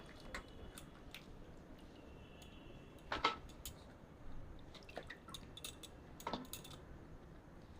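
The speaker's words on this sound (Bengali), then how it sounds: "এবার আমি ফুলকপিগুলো ভালো করে ছেঁকে তুলে নেব" Soaked cauliflower florets being drained in a home kitchen produce faint, scattered drips and soft wet clinks, with a couple of sharper knocks of utensils against a container, all quiet and close.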